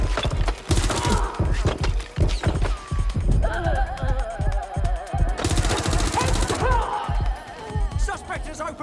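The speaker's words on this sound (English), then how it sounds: "Suspect has opened fire." Rapid, loud automatic gunfire bursts and sharp impact cracks in the Watch Dogs: Legion video game, repeating fast throughout with brief gaps, mixed with game voices.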